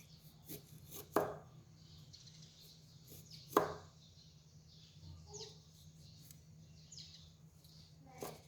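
A knife chops fresh herbs for a Cambodian fish kroeung paste. Two sharp, faint cuts land a couple of seconds apart over a quiet background.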